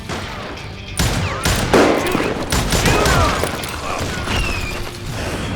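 Rapid gunfire rings out in the Wild West shooter Call of Juarez Gunslinger: a dense burst of close, loud shots with metallic mechanism clatter, then ongoing firing over game ambience.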